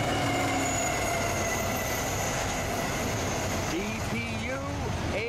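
A long CSX freight train led by four locomotives rolls past close by, a steady loud rumble of wheels and cars with high squealing tones and a few horn-like sweeps near the end.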